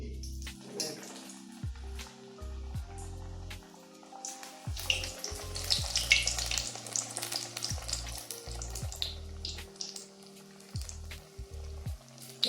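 Batter-dipped panikoorka leaf bajji frying in hot oil, a close, lively sizzle that swells and fades under soft background music with occasional clinks.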